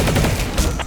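Continuous dense gunfire in the video game Planetside 2, a loud, steady barrage of overlapping shots and booms with no pauses.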